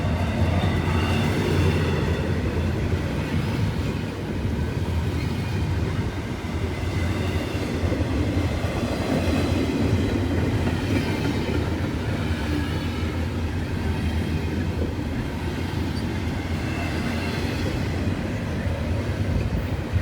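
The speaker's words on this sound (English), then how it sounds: "Looks like a long train" Long Norfolk Southern freight train led by SD70ACU and SD70ACC locomotives rolls past slowly at restricted speed, a continuous loud rumble of wagons with rhythmic clicking wheels and rattling throughout.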